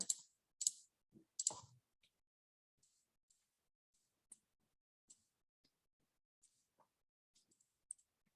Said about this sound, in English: So just type that straight into my calculator.